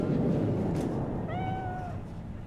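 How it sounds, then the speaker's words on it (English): A single drawn-out meow from a cat in the video game Cyberpunk 2077, clear and fairly close, rising over a low rumbling purr that fills the moment. "Gotta pet the cat."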